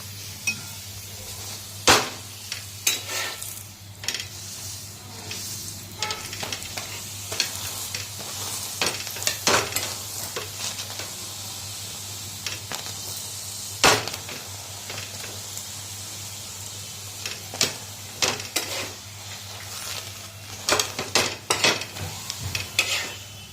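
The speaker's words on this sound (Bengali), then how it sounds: "দেখো পরোটাটা বেজে নিচ্ছে এখন" A paratha fries in a pan in a home kitchen, with a soft continuous sizzle broken by scraping, stirring and utensil knocks, close and fairly loud.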